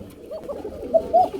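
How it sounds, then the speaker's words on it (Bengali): Kuka pigeons coo softly and close by, a low rolling series of murmuring notes ending in two brighter rising coos. "দেখতে পাচ্ছেন বন্ধুরা কুকা কবুতর কাকে বলে?"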